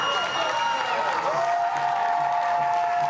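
Stadium crowd at an A-League women's football match between Perth Glory and Sydney FC roars and applauds a home goal, a loud, sustained wash of cheering and clapping with whistles and whoops, while a commentator talks over it.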